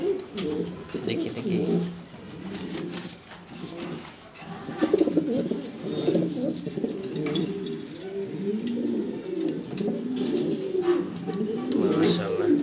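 Black exhibition pigeons coo in repeated low, throaty bursts throughout, close and steady, with faint background noise and no clear talk.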